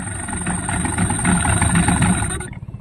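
A Yamaha 15 hp outboard motor that had been submerged in seawater runs steadily at idle, a close, even mechanical hum with a high whine, before stopping near the end.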